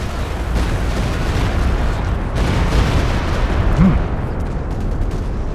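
A dense, loud rumble of a large explosion in the World War II strategy game Company of Heroes 2, a sustained booming roar with scattered battle noise layered over it.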